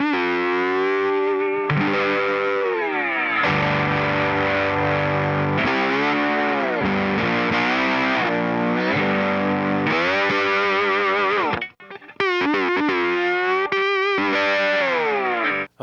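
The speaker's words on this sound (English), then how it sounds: "how it's almost hard to sound bad when you're doing slide with an open tuning" Electric guitar played with a slide in open tuning, distorted and effects-laden, with gliding sustained notes running continuously and a brief break near the end.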